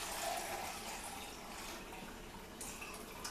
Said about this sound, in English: I'm going to add exactly 2 cups of water into each container